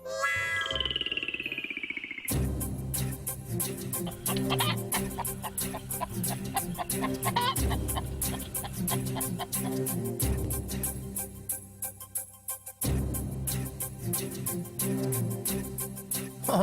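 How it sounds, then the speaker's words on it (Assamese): A hen clucks repeatedly over a steady, dense background of other sound, continuing throughout with no voices. "আনিলা তুমি এটা কাম কৰাচোন এই মুৰ্গীটো সাউতকে দাঙি দিয়া"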